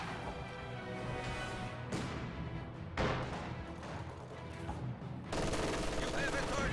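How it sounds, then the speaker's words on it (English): A light anti-tank gun firing on a shed in a video game, sharp reports and crashing impacts cutting through a dense bed of battle noise, with a commentator talking over it. "Light anti-tank gun firing on this shed now."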